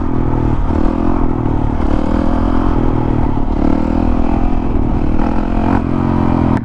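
Motorcycle ridden on a bumpy road, a loud steady engine drone with rattling clatter and jolts from the rough surface, heard close up from the bike itself.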